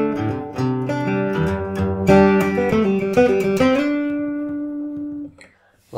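A riff played on guitar, a steady run of plucked notes and ringing chords close up, ending on a held note that fades before a brief bump of handling noise.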